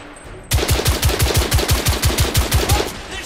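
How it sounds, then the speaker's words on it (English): Rapid automatic gunfire in the video game The Order: 1886, a burst of about fifteen loud evenly spaced shots that starts abruptly and runs for nearly three seconds before tapering off. "They're shooting at me."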